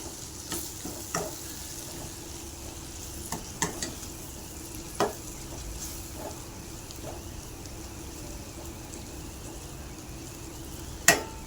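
Chopped tomatoes sautéing in a pan for a sundakkai kulambu, a steady soft sizzle with occasional sharp scrapes and taps of a stirring spoon against the pan, no talking.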